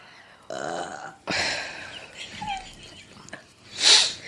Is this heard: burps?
yes